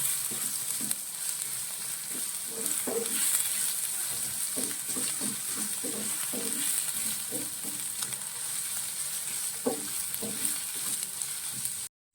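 Ginger, green chili and garlic fry in oil for a Pakistani dal fry, a steady close sizzle with occasional soft stirring knocks throughout, then a sudden stop at the end.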